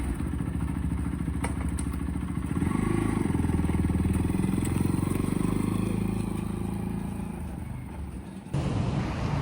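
A newly bought Kawasaki motorcycle's engine runs steadily and close by, rising slightly in loudness mid-clip before a brief clatter near the end, with no speech over it.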